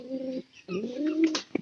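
A pigeon coos up close in a pigeon loft, with two soft, low coos and a short flutter at the end.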